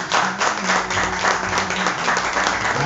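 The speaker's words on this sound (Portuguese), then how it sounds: "Você pode aplaudir pelo sacrifício da cruz?" A church congregation bursts into sustained applause during an evening service, dense clapping filling the space at a steady level with a faint murmur of voices underneath.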